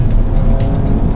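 A Skoda Octavia RS engine revving loudly from inside the car, a dense continuous roar with rhythmic surges in intensity.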